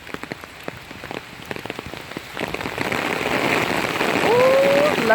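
Steady rain falls outdoors, patchy pattering that swells into a fuller, louder downpour, with a brief high squeak near the end.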